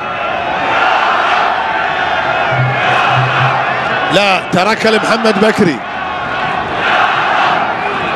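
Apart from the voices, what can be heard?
Egyptian football crowd cheering in the stands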